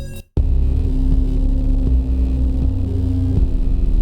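A creepy 'Static AM' synth patch built in VCV Rack modular software: a loud, continuous droning hum with steady low tones that starts abruptly after a brief moment of silence and holds without a break.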